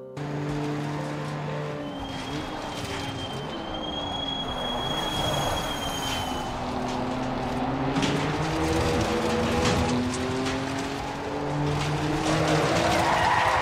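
Race cars in a racing video game brake late into corners and crash into each other, with loud, sustained tyre squeals and a high engine whine running throughout and no talk.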